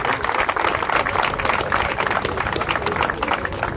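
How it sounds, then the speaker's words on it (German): A crowd applauds a first-generation VW Golf at an outdoor car meet, with dense, continuous clapping that stays loud and close throughout and some voices mixed in. "Einmal Applaus für den schönen 1er Golf."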